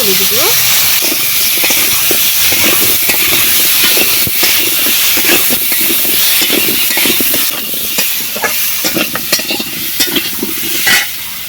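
Water poured into a hot pan of frying potatoes and fish for a village-style curry, giving a loud, constant sizzle and hiss with scraping stirs throughout.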